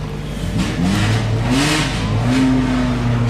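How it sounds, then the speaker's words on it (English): A race car engine fires up and revs in a paddock at the Cholmondeley Pageant of Power, the tone rising and falling through several throttle blips over a steady low rumble, fairly close and loud. "I'll see a car firing up over there"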